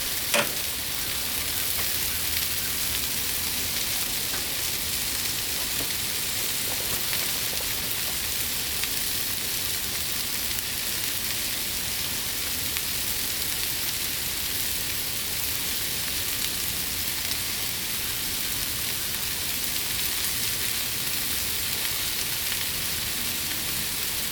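Al pastor meat sizzles steadily on a Blackstone griddle, a constant bright frying hiss with no talk, close and even throughout.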